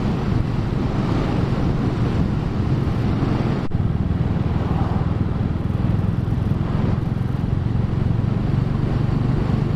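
A Royal Enfield 350 Classic motorcycle on an open-road ride, heard as a steady loud rush of wind buffeting the microphone over a low, constant engine drone throughout.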